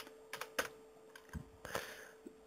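Someone types on a computer keyboard while entering a Windows command to fix a startup error, producing a few scattered, fairly close keystrokes with short pauses between them.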